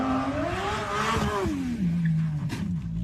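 An Audi R8 supercar engine revs hard with a rising then falling pitch, sustained and loud, ending in a lower drone with no voices.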